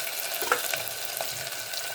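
Garlic ginger paste sizzles and fries steadily in a hot pan, a continuous close crackle with no voices.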